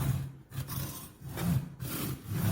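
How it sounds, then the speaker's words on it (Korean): A hand saw cuts through wood held against a saw guide during a woodworking lesson, giving steady, close rasping strokes in a slow back-and-forth rhythm with no talking. "이 톱 가이드를 대고 이렇게 톱질을 하면 돼요"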